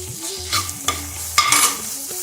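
Ginger garlic paste is stirred into onions frying in oil, with a steady close sizzle broken by several scraping strokes of a spoon across the pan over about two seconds, and no voices.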